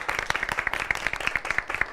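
An audience claps for the band during a talk show, giving quick, distinct, close-sounding claps in a brisk rhythm throughout.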